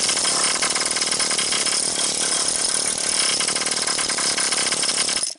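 A pneumatic chisel knocking heavy, scaly rust off metal hammers continuously at a rapid, steady rate, loud and close, its rattling blows unbroken until it stops abruptly at the end.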